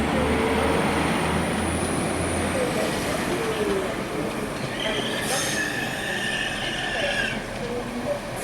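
Freight train rolling past a Liverpool station, steady broadband rumble and clatter of wagons with high-pitched wheel squeal rising and fading, loud and continuous throughout.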